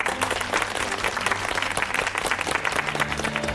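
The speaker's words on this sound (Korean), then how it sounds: "여러분 박수로 맞이해 주십시오." Studio audience of a Korean talk show applauds warmly, a dense, even wash of clapping with some individual claps standing out, continuing throughout without speech.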